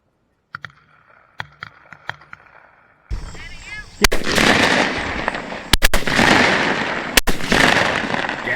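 Shotgun shots ring out during an opening-day dove hunt over a wet Mississippi field: several sharp, loud blasts, two in quick succession, over steady wind-like noise after faint clicks of guns being loaded.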